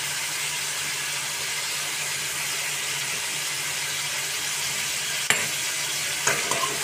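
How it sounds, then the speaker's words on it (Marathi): Chicken pieces for kala chicken fry in hot oil with a steady, dense sizzle that holds at an even level close by. A couple of brief clinks of a utensil sound near the end, and no one speaks. "याला आपण आता अगोदर तळून घेऊया"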